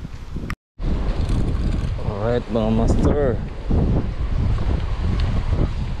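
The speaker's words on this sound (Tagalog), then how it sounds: "Dito kasi sobrang lakas ng hangin." Strong coastal wind buffets the microphone in a steady roar at a fishing spot by the sea, with someone talking briefly over it near the start.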